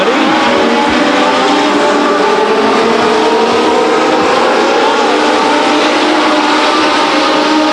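Legends race cars roaring around Stockton 99 Speedway in a 1999 race, a loud continuous engine drone with pitches rising and falling as cars pass, filling the whole stretch without pause.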